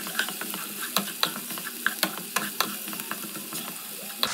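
Onion, tomato, garlic paste, ginger paste and chopped green chilli fry in oil while being stirred, with a soft sizzle under repeated sharp spatula taps and scrapes against the pan, close and fairly quiet.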